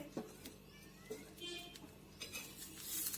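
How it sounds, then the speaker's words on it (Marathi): Coriander seeds dry roasting in a pan for yesur masala: faint, close clinks and scrapes of stirring against the metal come in scattered bursts over a quiet background. "आता मी भाजून घेणार आहे धने. छान असे आपल्याला धने भाजून घ्यायचे."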